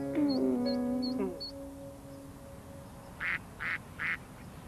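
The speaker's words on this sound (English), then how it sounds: "Two little ducklings. Quack, quack, quack." Cartoon-style duck quacks from a children's puppet show, three short nasal quacks standing alone after a stretch of tonal music.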